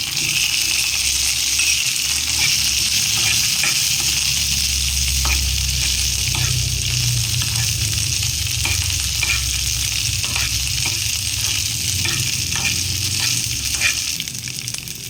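Ten small shallots sauté in a hot pan with a dense, steady sizzle, broken by intermittent scraping and clinking as they are stirred. No voices are heard.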